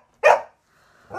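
A dog at home barks twice, loud and close: one sharp bark, a pause, then a shorter second bark, with no talking around them.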